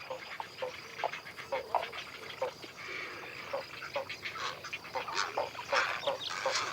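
Herons, egrets and spoonbills nest together in old cork oaks in Doñana. Their many overlapping croaks and honking calls sound at moderate distance over a busy colony background.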